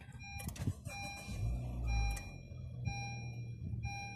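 A 2018 Honda HR-V AWD with 7,500 miles is started by push-button: a short whirring crank and chime-like dash tones, then the engine catches into a low, smooth idle that rumbles on.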